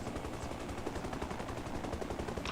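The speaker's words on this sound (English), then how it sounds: "It's literally small arms fire." Small arms gunfire in a video game battle, a dense continuous rattle of rapid shots and bursts filling the whole stretch at steady loudness, with no voices.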